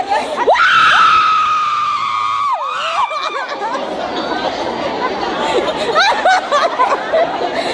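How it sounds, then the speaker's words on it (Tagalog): A crowd screams and shrieks loudly at an International Migrant Day event at a Sentosa convention centre, with a long piercing scream giving way to dense excited chatter and laughter nearby. "Ang gulo! Ang sakit sa tenga! Sigaw! Sigaw!"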